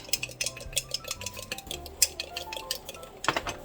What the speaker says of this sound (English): I'm just gonna give this a real quick stir